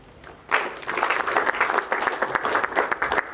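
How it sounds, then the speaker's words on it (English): After a brief quiet start, a general assembly at a guild council swearing-in ceremony breaks into lively clapping, a crowd of hands beating fast and irregularly at fairly close range until the end. "I would like to ask the General Assembly also to clap for the incoming Guild Council members."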